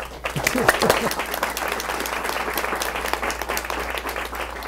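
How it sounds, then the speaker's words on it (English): An audience at a county executive candidate forum applauds itself, a sustained burst of clapping with a brief voice at the start and a low hum underneath. "Give yourself a round of applause, please."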